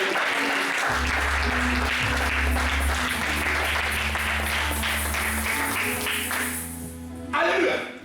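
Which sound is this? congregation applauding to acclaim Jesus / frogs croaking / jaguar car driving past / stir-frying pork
congregation applauding to acclaim Jesus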